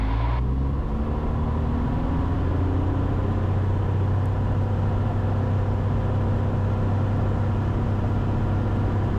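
RV-10 aircraft engine at run-up, power rising toward 50% in the first moment and then holding a loud, steady propeller-engine drone heard from the cockpit.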